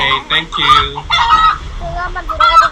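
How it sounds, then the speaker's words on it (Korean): Hens cluck and squawk loudly and close by at a campsite where a hen sits on a clutch of eggs, a busy run of agitated clucks with a crow-like call, and faint human voices in the background. "안에 닭이 알을 품고 있어요"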